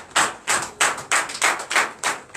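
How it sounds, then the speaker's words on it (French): Church congregation clapping in acclamation during a Sunday service in Benin, about eight sharp, evenly spaced claps in a steady rhythm, close and fairly loud with no talk over them. "Donnez l'acclamation à Jésus."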